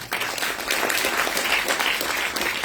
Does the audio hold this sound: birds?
no